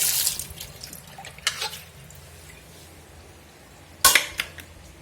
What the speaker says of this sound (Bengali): চলো একটু ধুয়ে নিই, আমটা ধোয়া হয়নি, পুরো টাটকা গাছের আম।